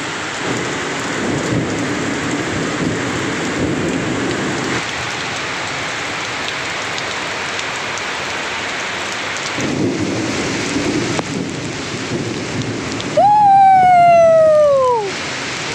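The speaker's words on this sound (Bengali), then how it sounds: "মেঘ, হঠাৎ করেই বৃষ্টি।" Heavy rain from a sudden midday storm pours as a steady, loud hiss with deep thunder rumbling underneath, and near the end a rising and falling tonal wail cuts through.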